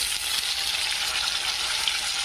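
Onion fries in a pan for an okra dish, giving a steady, even sizzle with a bright crackling hiss throughout and no talking.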